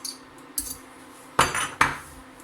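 A utensil stirs melting butter in a pan for lemon cupcakes, sounding as a few sharp metallic clinks and scrapes against the pan with quiet gaps between them.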